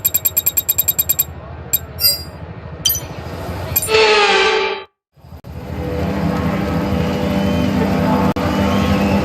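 Formula 1 cars on a formation lap in the video game F1 23 at Qatar, with engine drone and rhythmic pulsing, a sharp rising whine that cuts out briefly, then a steady loud engine roar resuming.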